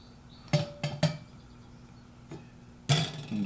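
Metal clanks and scrapes as a pot of water is handled and set down on a lit gas stovetop, a few sharp knocks spaced apart, close by.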